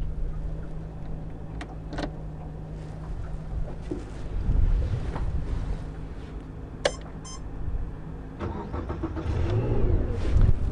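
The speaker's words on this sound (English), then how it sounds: "That's the engine started." A powerboat's engine cranks and catches, then runs at a steady, low rumble, with wind noise buffeting the microphone throughout.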